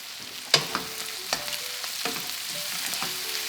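Beef sizzles and fries in a pan with green chilli and a smoky rub, with steady crackling broken by a few sharp stirring clicks and scrapes, close and alone.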